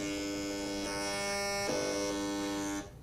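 A continuous harsh electronic buzz with bright tonal whine from an RF meter sonifying a cordless telephone's emissions, steady and close, shifting slightly partway through before stopping abruptly near the end.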